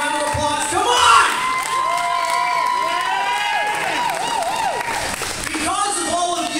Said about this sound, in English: Do you people not love yourself enough to give yourself a big round of applause?